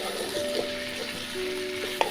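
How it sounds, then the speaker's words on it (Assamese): Chicken pieces and potatoes fry in a pan with cumin spice, making a steady, even sizzle with a few sharp pops and clicks and a brief thin tonal whine running underneath. "আৰু মাংসখিনি এতিয়া ভালকৈ ভাজি ল'ম আলুৰ সৈতে।"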